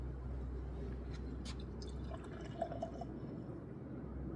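A Christmas beer, Seasick Crocodile, pours into a glass in a steady, continuous stream lasting several seconds, close and fairly quiet with a faint liquid trickle near the end and no talking.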